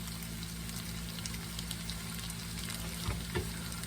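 Chicken linguine dressed with lemon zest and juice sizzles steadily in a hot pan while being stirred, heard close and alone with a couple of soft scraping knocks near the end.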